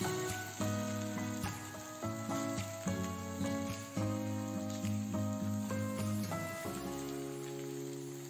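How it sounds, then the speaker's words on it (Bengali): Chopped bottle gourd added to a pan of lightly fried ginger paste, sizzling steadily with a crackle like rain, plus a few scraping and clattering knocks, close and alone. "আদাটা সামান্য ভাজা হয়ে এলে আমরা এর মধ্যে কেটে রাখা লাউ দিয়ে দেব।"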